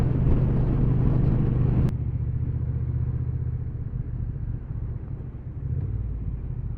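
A Triumph T120 motorcycle rides along the urban edge of Norwich with a steady engine drone and heavy wind rumble, a sharp shift in tone partway through, continuous and close.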